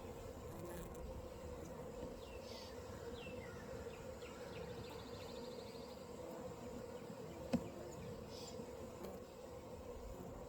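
Bees swarming around a crowded backyard hive, a faint steady hum with light buzzing over a low background rumble and one small knock partway through.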